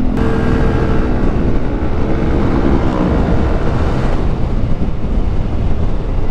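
Yamaha Aerox Alpha Turbo scooter pulling away hard in Sport mode, a loud, close engine roar buried in heavy wind buffeting that stays steady throughout.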